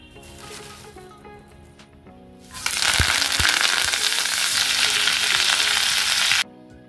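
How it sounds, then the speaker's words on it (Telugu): Curry leaves hit a spoonful of hot oil and burst into a loud, crackling sizzle that holds steady for several seconds, then cuts off abruptly. Quieter kitchen sounds come before it. "తిరిగి స్టవ్ ఆన్ చేసి 1 టేబుల్ స్పూన్ మైన ఆయిల్ వేసి మిగిలిన కరివేపాకు కూడా అదే విధంగా వేపుకోవాలి।"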